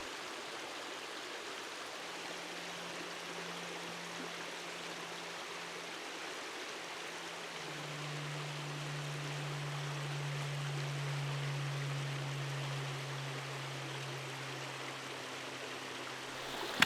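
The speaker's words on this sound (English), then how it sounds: "Although crossing the stream looked daunting, it wasn't too bad once you were actually in the water." A stream runs through a snowy winter forest during a backpacking trip, its rushing water a steady, even wash at moderate distance, with a faint low drone underneath and no speech.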